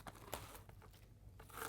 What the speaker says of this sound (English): This is plastic wrap. It just happens to stick a bit better.